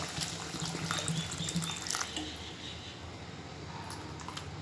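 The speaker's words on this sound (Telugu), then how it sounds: "వాటర్ పోస్తాను ఇప్పుడు" Water poured into a clay pot of tomato and cucumber curry, heard as a steady, continuous rushing pour at moderate volume, close by, with no talk.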